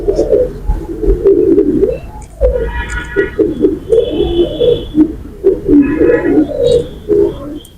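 A female pigeon of a Dhaka line coos repeatedly and close by, in a steady run of soft, bubbling throaty coos with brief gaps, with no talking.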